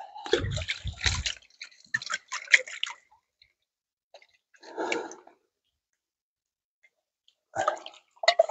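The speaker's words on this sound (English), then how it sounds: "The nice part about being by the river, makes it easy to wash dishes." Dishes are washed by hand at a riverside camp, with irregular splashes, drips and clinks in short bursts separated by quiet pauses, close and fairly soft.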